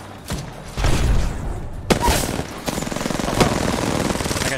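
Video game gunfire, several sharp close shots and short bursts with a heavy thump, followed by a dense rattle of continuous fire.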